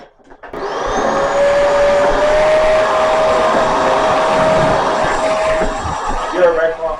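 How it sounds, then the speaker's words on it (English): A vacuum cleaner starts up and runs loud and steady with a constant whine, close by, while a person talks over it. "So vacuuming it is."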